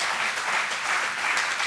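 Audience applause for a vice chancellor at a Partition Horrors Remembrance event, steady dense clapping from a large crowd filling the whole moment without any voices.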